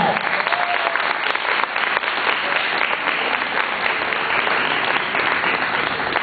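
A church congregation gives a loud, sustained round of applause at a Sunday service, with dense clapping that stays even throughout.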